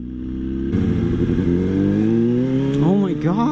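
A motorcycle with a very touchy, immediate throttle revs and accelerates loudly and close by, its engine note climbing steadily in pitch with a couple of quick blips near the end.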